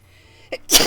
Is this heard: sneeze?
yes